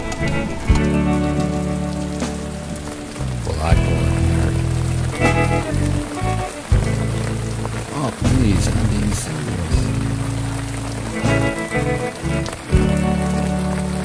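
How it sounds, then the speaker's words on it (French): Heavy rain in the Pyrenees patters and splashes on surfaces, mixed with loud music playing over it throughout. "espérant que la pluie s'arrête rapidement"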